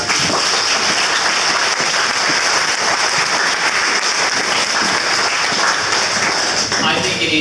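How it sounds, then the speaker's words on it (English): Loud, dense applause fills a crowded room at a community awards night with hundreds of guests, steady and unbroken from start to finish with a bright hiss of many hands. "how about we give a big round of applause for our"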